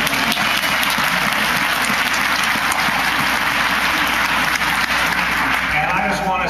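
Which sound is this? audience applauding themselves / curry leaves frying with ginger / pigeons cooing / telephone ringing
audience applauding themselves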